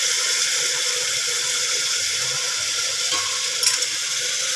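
Tomatoes frying in a pan with chilli powder and turmeric give a steady, close sizzle that holds through the whole clip, with a small stir or clink near the end. Nobody speaks.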